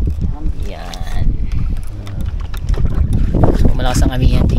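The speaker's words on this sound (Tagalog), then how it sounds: "hindi tayo makaporma ngayon dahil ang lakas ng hangin" Gusty northeast monsoon wind buffets the microphone in low rumbling bursts, with water lapping around a small fishing boat off Palawan and a voice talking over it.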